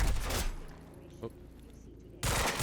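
Bursts of gunfire from the video game Quantum Break, a dense rattling volley at the start and another erupting near the end, with a quieter gap between and a brief muffled sound in the middle.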